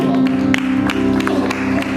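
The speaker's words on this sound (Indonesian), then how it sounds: "Kita beri tepuk tangan yang meriah" Applause at an Indonesian church service, a moderate spread of clapping hands over a steady background hum and tone, fairly even in level and with no talking.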